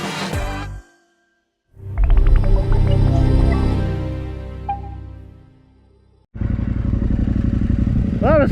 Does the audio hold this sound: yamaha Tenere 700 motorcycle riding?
yes